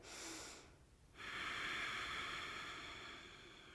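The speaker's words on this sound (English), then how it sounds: "One more big breath here." A yoga breath: a long airy inhale, then a short pause, then a steadier, louder breath that slowly fades. It sits close and soft, with no talking over it.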